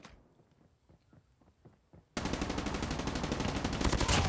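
HVK-30 assault rifle fire in the mobile game Call of Duty Mobile: a scatter of single muffled shots and thuds, then an abrupt, loud, dense burst of sustained automatic fire that runs to the end.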